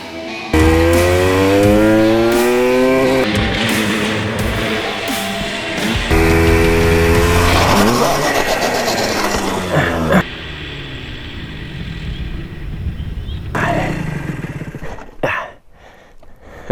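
A small street-legal motorcycle engine on a warm-up lap revs loud and close, with rising and falling tones through repeated gear changes, then drops to a rougher, noisier drone before fading out.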